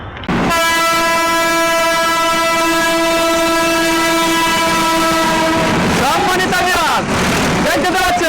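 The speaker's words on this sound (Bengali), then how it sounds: "আমার সামনে এবং পিছনে দুই পাশে ট্রেন চলাচল শুরু হতে চলছে" A train passing near a jungle resort sounds a long, loud, steady horn for about five seconds, then its wagons rumble and clatter by up close while a voice talks over the rolling noise.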